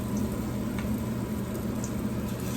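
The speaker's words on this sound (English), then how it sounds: "That sizzling." Steady, dense crackling sizzle of cornmeal batter frying as Southern cornbread in a hot skillet, close and continuous with no talking.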